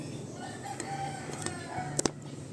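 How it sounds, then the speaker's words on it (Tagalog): A rooster crows faintly in the distance over quiet background noise, with a couple of sharp clicks near the end. "Kaya naririnig niyo yung manok. Manok tilaok."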